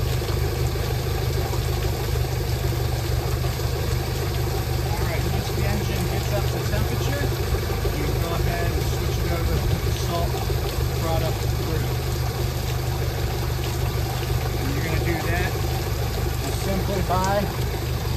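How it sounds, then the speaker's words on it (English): A boat engine idles steadily during a salt-flush cleaning, a loud, continuous low rumble with faint intermittent chirps and knocks over it. "I'm getting ready to fire up the engine"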